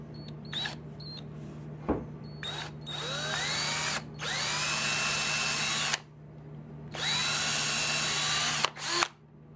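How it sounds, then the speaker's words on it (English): A small drill bit bores a pilot hole into a wooden hatchet handle in a few long bursts, separated by short pauses and sharp clicks, with a steady hum underneath. "I'm gonna drill this purely by hand and eye"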